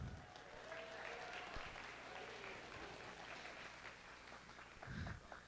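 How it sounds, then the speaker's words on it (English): Parents and guests at a high school band and choir winter concert applaud in a soft, distant, rain-like patter that continues evenly, with a low thump near the end. "go ahead and stand up, take an applause too"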